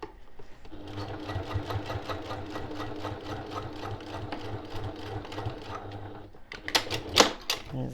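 Sewing machine running a 1 centimetre French seam on a boxed zipper pouch, a fast even chatter of needle strokes for several seconds, then stopping, followed by a few small clicks and handling noises.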